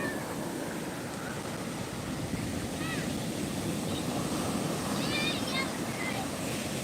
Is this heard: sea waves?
yes